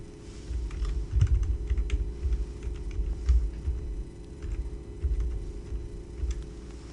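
Computer keyboard tapped in short, uneven bursts of soft clicks, entering login details over a steady low room hum.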